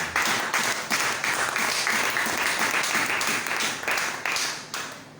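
A church congregation breaks into sustained applause and clapping during a sermon, a dense steady wash of many hands with occasional louder surges, no voices on top.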